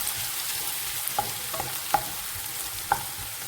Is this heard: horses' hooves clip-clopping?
no